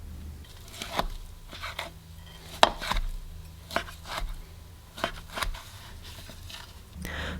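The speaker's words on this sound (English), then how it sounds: "I'm going to cut this into smaller size pieces" Knife cutting thawed smoked beef into small pieces on a board, a steady series of sharp close chops and taps at an uneven rhythm.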